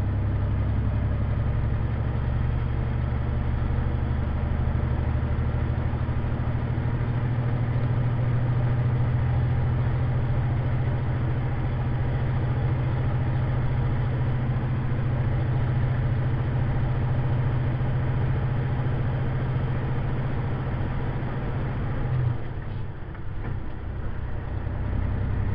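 A car engine runs steadily at a continuous low drone for most of the stretch, with a brief dip and change in tone near the end, and no voices present.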